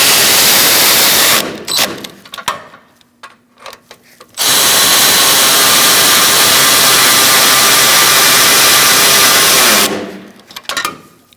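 A power tool runs loud and steady while tightening radiator bolts on a 2016-2019 Chevrolet Cruze 1.4L, with two long whirring bursts separated by a short pause filled with brief clicks and handling noises.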